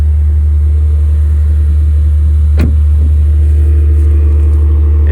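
A wrecked Maserati's engine runs with its exhaust valves open, giving a loud, steady low rumble throughout and one sharp brief burst midway, with no talking.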